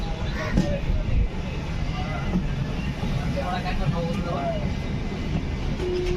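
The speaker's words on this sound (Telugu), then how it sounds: "ఇప్పుడే పలాస నుండి స్టార్ట్ అయిపోయింది మన ట్రైన్" The Howrah–Visakhapatnam Superfast Express pulls away from Palasa station, a low steady rumble of the moving train heard from inside the coach, with a voice speaking over it.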